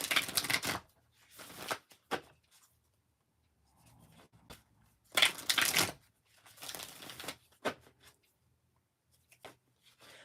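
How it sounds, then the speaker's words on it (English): Angel and ancestor oracle cards being shuffled and pulled, with soft papery riffles and slides in several bursts separated by quiet gaps, close and fairly faint. "Let's pull the angel and ancestor cards."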